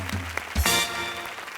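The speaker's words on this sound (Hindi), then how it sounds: "बरखा सेन गुप्ता के लिए जोरदार तालियां।" Studio audience applause on a Hindi comedy show, a short burst of clapping that swells quickly and holds steady, with a brief voice at the start.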